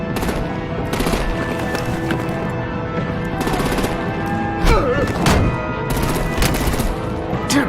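Artillery and gunfire in the video game Batman: The Enemy Within, bursts of rapid loud shots in repeated volleys over a busy action soundscape, with voices briefly under the firing.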